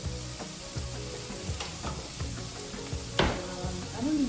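Leftover chopped meat sizzles steadily in a hot frying pan for a no-carb Chinese dish, a continuous close hiss with a few sharper spatters and a brief clink of a utensil near the end.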